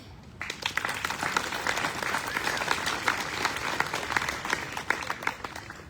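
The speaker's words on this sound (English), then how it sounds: "thank you for your applause" A city council meeting audience gives steady, moderately loud applause that starts abruptly and continues evenly for several seconds.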